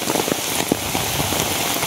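Heavy rain roars continuously with dense pattering drops, loud and close, no voices present.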